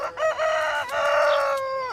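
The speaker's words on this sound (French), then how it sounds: "Ta gueule, la poule là" A loud, drawn-out call from a nearby hen, a single strained call lasting about two seconds with no talking.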